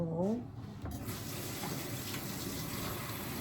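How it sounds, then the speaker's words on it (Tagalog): Chopped ingredients for a packed work lunch are rinsed under a running kitchen tap, with a steady close rush of water into the sink after a brief voice at the start. "Hugasan ko na."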